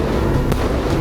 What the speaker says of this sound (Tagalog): Ito yung mga galante nating kapitbahay na meron tayong free fireworks dahil sa kanila.